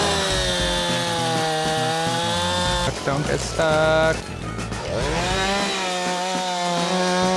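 A chainsaw cuts through a tree being felled, its engine snarling steadily with a pitch dip midway as the bar bites into the wood, close and loud while people talk over it.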